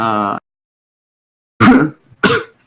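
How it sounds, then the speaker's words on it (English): A short vocal sound, a pause, then two harsh coughs in quick succession, close and loud. "Sorry, I have a coughing fit."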